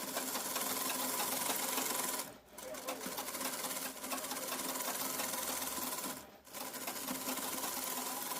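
Electric sewing machine stitching lace onto the hem of ladies' Pakistani-style trousers: a fast, continuous mechanical whirr in longer runs, stopping briefly twice.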